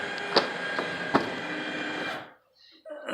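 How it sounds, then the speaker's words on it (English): Light aircraft wing flaps extending during a preflight check, a steady mechanical electric motor whir with a couple of clicks, cutting off abruptly after about two seconds. "While the flaps are coming down"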